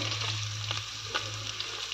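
Chicken fries in hot oil in a home kitchen, a steady soft sizzle with a constant hum behind it and a few light stirring scrapes.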